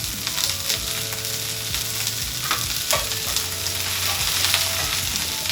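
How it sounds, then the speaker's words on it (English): Onions and sliced beef chuck sizzle steadily in a pan, a dense continuous frying hiss with occasional stirring scrapes and clinks, close and fairly quiet, with no talking. "We're gonna sweat our onions until they're about translucent or close to translucent."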